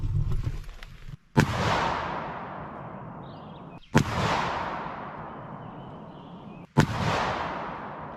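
Three 12 gauge shotgun blasts firing Foster slugs at a 100 yard range, each a sharp loud crack followed by a long rolling echo decaying over a couple of seconds, spaced evenly apart.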